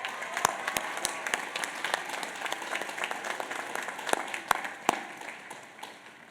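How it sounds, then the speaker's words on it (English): An audience at a Union College commencement applauds in a sustained wash of clapping, with a few louder individual claps standing out, fairly close and continuous before tapering slightly at the end. "Please, a round of applause for them."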